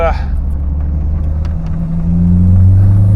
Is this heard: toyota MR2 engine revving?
yes